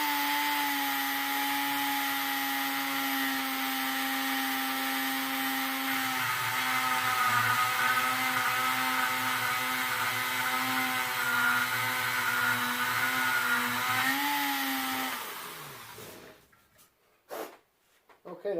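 High-speed rotary tool spinning at about 30,000 rpm with a Kutzall carving bit, cutting steadily under pressure as a sustained whine that holds for about fifteen seconds before winding down and stopping.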